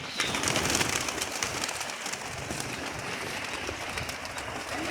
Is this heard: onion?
no